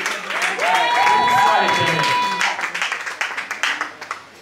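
A church congregation cheers and acclaims with loud shouts and whooping voices, then breaks into scattered applause that continues to the end.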